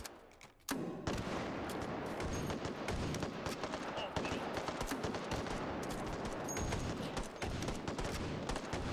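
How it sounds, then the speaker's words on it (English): Rapid gunfire fills the VR shooter Hot Dogs, Horseshoes & Hand Grenades, dense bursts of close automatic shots starting abruptly and continuing for several seconds, with a voice speaking among the shots. "Shoot my own guy."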